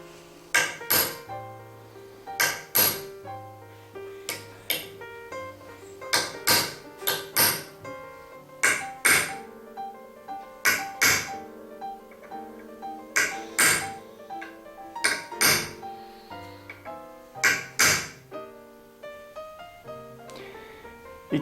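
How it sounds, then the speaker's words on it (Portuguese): A hammer striking a metal nail punch to sink a nail head into wood, sharp ringing taps in short clustered bursts with pauses between them, close and fairly loud, without speech. "Eu posiciono esse punção na cabeça do prego e vou repuxá-lo"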